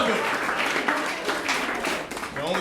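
Stand-up comedy club audience applauds a teacher in the crowd, a sustained patter of clapping with voices and some talk running through it.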